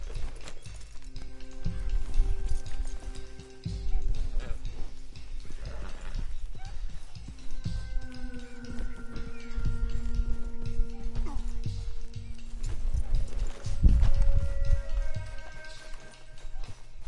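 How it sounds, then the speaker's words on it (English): Arabian horse hooves clip-clopping steadily in a Red Dead Redemption 2 game world, ridden bareback, with a continuous rhythmic gait over a low rumbling background and music-like tones, occasional soft whinnies and someone speaking intermittently. "An Arabian horse."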